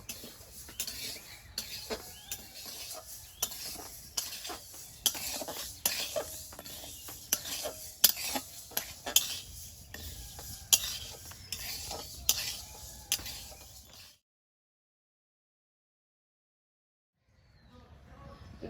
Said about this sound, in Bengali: ডালটা ভাজা হয়েছে